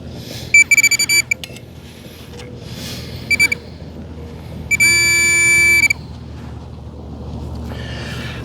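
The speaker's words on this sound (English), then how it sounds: "All right, we're getting a loud signal." A Minelab Equinox 800 metal detector sounding off over a buried rusty nail in a park: a few short, sharp electronic beeps, then a loud, steady, high tone lasting about a second, with faint outdoor background and no talking.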